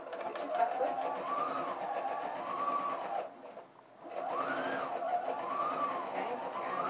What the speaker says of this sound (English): foot down, needle in my work, stitches forward, stitches backwards.